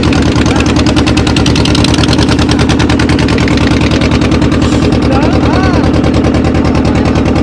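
Motor boat on the Godavari river, a loud, close, steady engine chug with a fast rhythmic pulse throughout, with voices faintly underneath.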